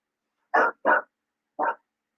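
A dog barks three times at close range, two quick barks followed by a third after a short pause, loud and clear with no talking over it.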